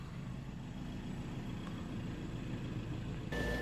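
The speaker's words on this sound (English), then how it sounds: "Start the engine up. We'll just let it idle there for a few minutes." An Audi A6 Ultra 2.0 TDI diesel engine idles steadily, a quiet, even low rumble heard alone with no voices, continuing without change.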